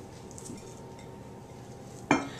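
A pie crust set down into a pie dish for a strawberry whipped cream pie, heard as a single soft clink of the dish near the end after quiet handling.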